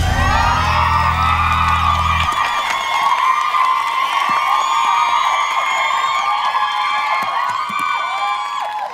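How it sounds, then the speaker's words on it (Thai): A studio audience on a Thai television game show screams and cheers loudly, high shrill shrieks layered continuously over a brief low musical tone at the start. "เรียกเสียงกรี๊ดกราดจากท่านผู้ชมในสตูดิโอกันได้แบบโอ้โหดังสนั่นวันไหวกันเลยทีเดียว"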